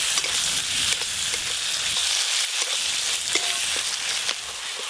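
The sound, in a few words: tomatoes and spices sautéed while stirring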